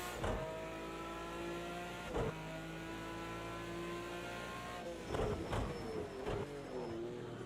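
An Aston Martin Vantage GT3 engine in the Project CARS 2 video game drones steadily with harmonic whine at Bathurst, shifting pitch during gear changes and braking, with a few bursts of revving near the end.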